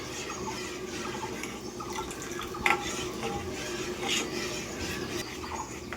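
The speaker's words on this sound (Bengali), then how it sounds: "হালকা হালকা আমি নেড়ে নিচ্ছি" A thin, sweet liquid mixture is gently stirred in a pan, making a soft, continuous swishing churn with occasional light clinks of the utensil against the metal, close and fairly quiet, with no talking.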